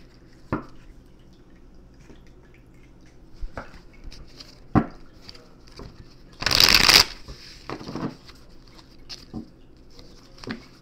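A deck of oracle confession cards is shuffled up close in a quiet room. Soft riffling flicks and taps come at irregular moments, with one louder burst of riffling in the middle.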